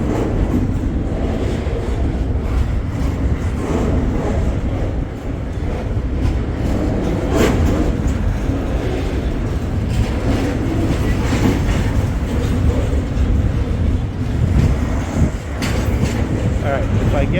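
A train rolls past steadily and loudly, its wheels clattering over the rails in a continuous rumbling rhythm.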